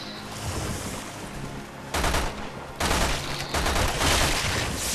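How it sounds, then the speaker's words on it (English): Burst-fire machine pistol shooting in Resident Evil 6 Mercenaries mode, loud dense bursts of rapid shots in several clusters over a rushing background wash. "it is a burst fire pistol"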